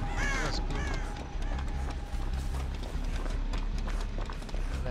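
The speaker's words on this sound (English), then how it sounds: "Oh, there are so many birds, man." Many crows caw repeatedly in the foggy outdoor world of the horror game Dead by Daylight, their harsh calls layered over a constant loud rumbling ambience, with scattered heavier thuds like footsteps running through.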